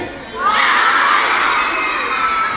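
A crowd of students screams together at a school assembly, a sudden loud sustained roar of shrill voices that swells in after a brief pause and holds steady.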